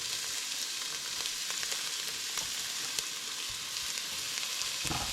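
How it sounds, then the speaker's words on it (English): Garlic and onion fry over medium heat in a pan for red lentil soup, a dense, even hiss of sizzling oil throughout, close and steady, with faint scrapes of stirring. "the garlic and onion is going to go into the pan"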